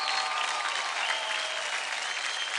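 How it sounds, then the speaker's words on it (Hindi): A studio audience at the Dance India Dance Season 3 TV show breaks into loud, sustained applause, a dense even clapping roar that fills the whole stretch without pause. "जोरदार तालियां हो जाए।"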